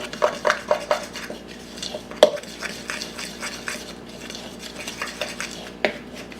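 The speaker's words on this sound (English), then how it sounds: "Got flour and brown sugar in here. Stirring that together." A spoon clinks and scrapes around a bowl, stirring flour and packed brown sugar together, with a steady run of close, repeated tapping strokes and no talking.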